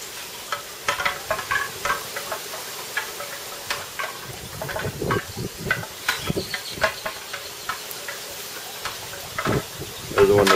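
Atomic Buffalo Turds and a strip of bacon sizzle steadily on a grill, with a constant frying hiss and scattered small pops and crackles close by.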